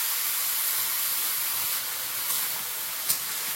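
Steady hissing sizzle of a little water added to a hot pan with turmeric, salt and chilli powder, a continuous bright steam spray that eases slightly near the end, with a faint click.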